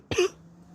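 A single sharp cough, close and fairly loud, with a throaty rasp, then quiet with a low hum.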